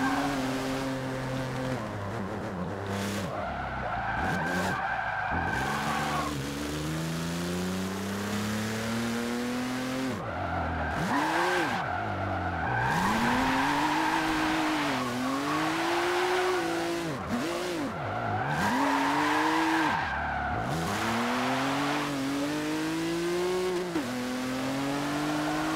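A car drifts in the racing game Forza Motorsport 7. The engine revs loudly and repeatedly, with the pitch swinging up and down, and long tire skids and squeals run through the whole stretch. No one speaks.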